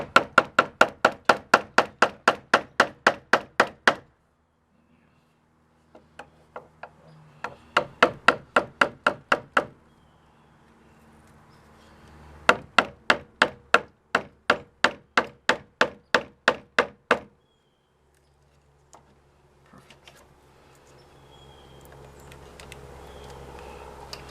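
A screwdriver is hammered into frozen solid wood during home renovation, heard as several fast runs of loud, sharp, evenly spaced blows separated by short pauses, close up and with no talking.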